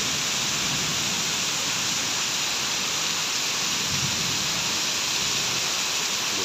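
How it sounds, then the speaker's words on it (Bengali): Heavy monsoon rain pours down over a city, driven by strong wind, as a constant, loud, dense hiss that fills the scene without pause and without voices. "বৃষ্টির যে আওয়াজটা, প্রাকৃতিক শব্দ"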